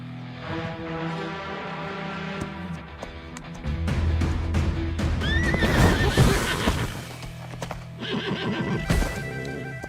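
A horse whinnies loudly amid the rhythmic clip-clop of hooves, set in a dramatic film scene with layered background sound and no talking.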